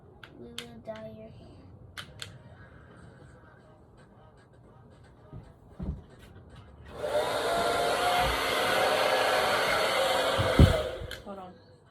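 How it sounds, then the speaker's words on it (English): A handheld hair dryer switches on partway through and blows with a steady, loud whoosh for several seconds. Soft speech and light handling noises come before it starts. "I'm gonna blow dry your hair."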